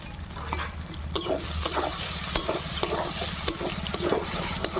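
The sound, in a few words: spice paste and tomato being stir-fried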